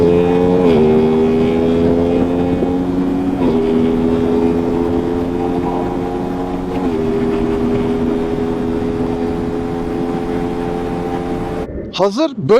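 A fast motorcycle at high speed holds a loud, steady engine drone with a few gear shifts, close and continuous, with heavy wind noise and a rider talking over it.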